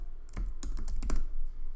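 Keystrokes on a computer keyboard entering a search term in FileMaker, a quick run of close, crisp taps in irregular bursts with no talking.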